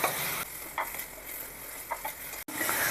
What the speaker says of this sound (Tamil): பைனாப்பிளை கொஞ்சம் இதில் போட்டு நம்ம வதக்கி எடுத்துக்கலாம்.